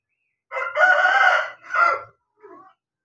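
A rooster crows once nearby, a loud drawn-out call in several segments, trailing off into a short softer cluck.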